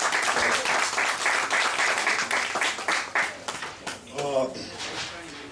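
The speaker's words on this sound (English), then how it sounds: "Y'all welcome the brother with a strong round of applause." An audience at a Juneteenth event claps in a strong round of applause that thins out and breaks up toward the end, while a voice talks over the clapping.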